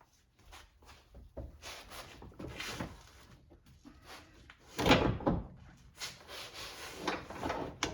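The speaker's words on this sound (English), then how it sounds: "now to get the seat out, we just need to disengage the latches that hold it to the body right now" Rear seat latches on a 2021-2026 Toyota Sienna Hybrid being released, heard as a run of close plastic-and-metal clunks and rubbing knocks, with one louder thud near the middle.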